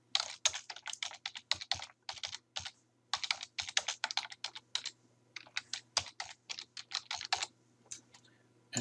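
Typing on a computer keyboard, rapid close clicking keystrokes in irregular bursts with short pauses, alone against a faint background hum.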